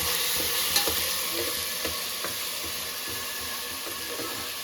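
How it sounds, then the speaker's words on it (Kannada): Chicken biryani masala fries in hot oil with a continuous sizzle, while scraping stir strokes sound at irregular intervals, close up and without talk. "ಅದು ಹಸಿ ವಾಸನೆ ಹೋಗೋವರೆಗೂ ಫ್ರೈ ಮಾಡ್ಕೊಬೇಕು ಫ್ರೆಂಡ್ಸ್"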